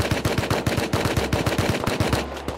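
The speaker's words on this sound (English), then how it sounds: "there is a lot of shooting there" Rapid automatic gunfire in the survival video game Rust, a dense, loud burst of evenly spaced shots rattling on for over two seconds before cutting off, with no talk over it.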